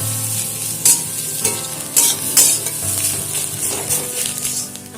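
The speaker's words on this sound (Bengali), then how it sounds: "বারে বারে নাড়াচাড়া করে এটাকে রান্না করতে হবে" Mashed taro (mankachu) frying in a pan while being stirred again and again, a close steady sizzle broken by sharp scraping strokes of the spatula, with no voices.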